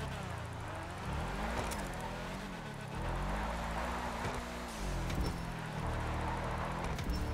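Car drifting in GTA Online, a Tampa on city roads: a steady engine drone with wavering pitch as the car slides and revs, continuous and fairly loud with tire noise mixed in.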